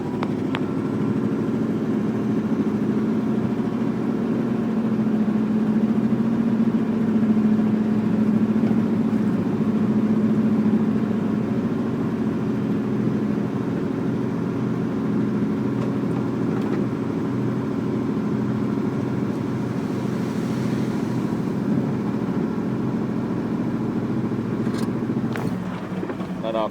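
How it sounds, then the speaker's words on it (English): A 1984 GMC dump truck idles steadily with a low, continuous engine hum while its bed raises, the drone holding level for a long stretch before a few sharp clicks near the end. "take this handle here, and pull straight up. You'll see the bed begin to move"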